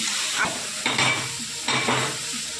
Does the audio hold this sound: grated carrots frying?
yes